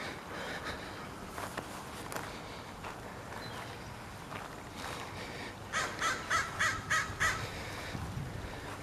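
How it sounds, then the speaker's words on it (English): A crow caws in a cemetery, a run of about six harsh, evenly spaced calls from a short distance, heard over steady outdoor rustle and faint footsteps. "We got a crow in here."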